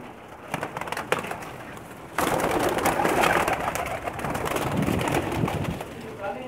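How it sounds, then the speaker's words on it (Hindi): Pakistani pigeons, youngsters and hens among them, on a rooftop loft: soft murmuring coos and wing rustles blend into a continuous close bed of bird noise, with muffled crackling handling sounds throughout. "कुछ कबूतर दिखा रहा हूँ"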